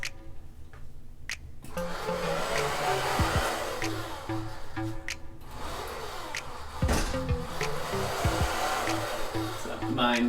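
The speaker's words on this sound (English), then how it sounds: "I'm using a hair diffuser so that way we don't get direct heat contact on our hair" A hair dryer fitted with a diffuser attachment runs with a steady, loud whooshing roar that shifts slightly in pitch as it moves, with a few faint clicks and brief quieter moments.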